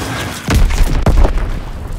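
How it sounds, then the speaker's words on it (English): A bomb explosion in an Xbox One shooter game: two heavy booming blasts about half a second apart, loud and close, followed by a rumbling tail, with no talk. "Enemy bomb incoming"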